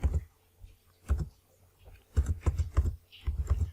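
Keys tapped on a computer keyboard while a name is entered into an Excel spreadsheet, with a few short clusters of soft, close clicks separated by brief pauses.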